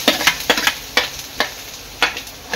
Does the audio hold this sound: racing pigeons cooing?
no